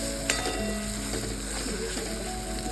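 Masala frying in a pan for a Marathi-style bhindi bharit: a soft, steady sizzle with faint scraping and stirring, close and fairly quiet, with no talk.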